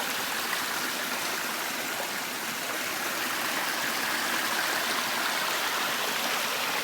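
A clear mountain stream in Crawford Notch rushes and babbles in a steady, close wash of water, with no voices.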